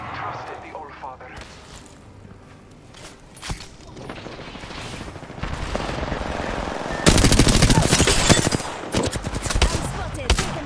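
Gunfire during an Apex Legends match, bursts of rapid automatic shooting that grow denser and louder toward the end, with the player talking over the first part.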